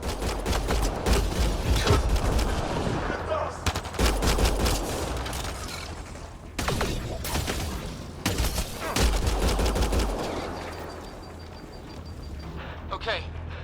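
A Mass Effect Andromeda firefight erupts in sustained bursts of rapid gunfire and heavy impacts. The shooting is loud and close, pauses briefly, then resumes before trailing off. Voices talk over parts of it.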